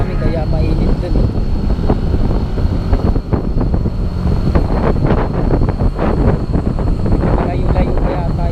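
Strong, cool wind buffets the microphone by a river with heavy low rumbling and gusty bursts, while a voice talks faintly underneath.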